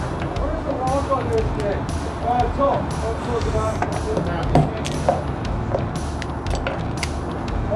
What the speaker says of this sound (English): Break them open. smash them up so we expose the flesh